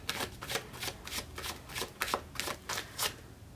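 Tarot cards shuffled and drawn in a reading, giving a steady run of about ten crisp riffling flicks at close range, with no talking.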